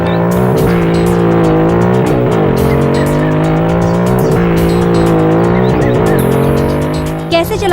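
Car engine revving hard and steady at high speed, a loud sustained drone with rising gear pitches and brief tire-squeal accents, held close throughout with no talking.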